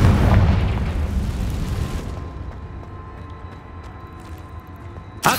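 A Confringo spell explosion in Hogwarts Legacy goes off as a loud, deep boom, then fades into a long rumbling tail, with a sharp new burst at the very end.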